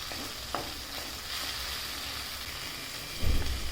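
Ingredients sauté in a pan for a restaurant-style veg kofta curry, a close, continuous hiss of frying with soft stirring ticks and a thump near the end.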